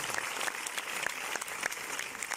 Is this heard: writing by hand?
no